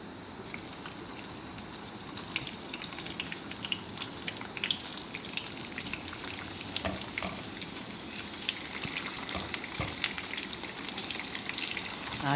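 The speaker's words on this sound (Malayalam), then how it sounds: "അപ്പോൾ അവിടെ തിരുമ്മി വെച്ചിരുന്ന മീൻ അതിലേക്ക് ഓരോന്നായിട്ട് വെച്ച് അതും വറുക്കുന്നു" Fish fries in a pan with curry leaves for a banana and fish curry, a steady, dense sizzle with scattered crackles and pops throughout, close and moderately loud.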